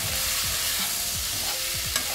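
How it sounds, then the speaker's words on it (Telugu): Capsicum and other vegetables frying in a pan before tomato goes in, with a loud continuous sizzle and rhythmic stirring scrapes beneath it, close up, without any voices. "టమాటా వేసే ముందర ఈ కూరలన్నీ వేగాలి"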